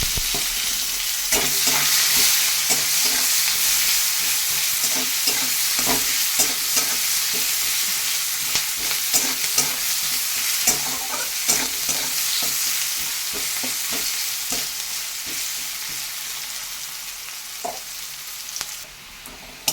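Sliced onions fry loudly in a wok, a steady dense sizzle broken by repeated scraping strokes of a spatula, close and continuous with no talking.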